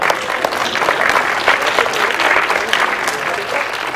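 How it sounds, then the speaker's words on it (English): Audience at a PMI Malaysian Chapter symposium applauding together: dense, steady clapping close by that holds evenly for the full four seconds, with no voices rising above it. "can we give a big round of applause to yourself?"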